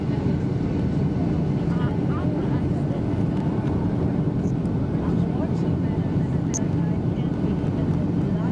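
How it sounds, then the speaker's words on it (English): Steady, loud engine roar heard from inside a Boeing 757 cabin as it comes in to land over Chicago buildings, a constant broadband rumble with no breaks and faint voices underneath. "this is the way the airplanes land on a Boeing 757"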